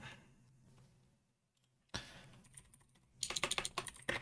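A computer keyboard being typed on in a quiet room, faint at first, then a louder burst near the end of rapid, close key clicks.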